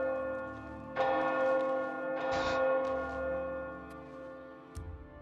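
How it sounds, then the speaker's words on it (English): Church bells in the Oblivion Remastered video game ring out loud and close, a few heavy strikes with long humming decay, bright tonal overtones lingering between hits, no speech. "Has there always been bells that loud in this game?"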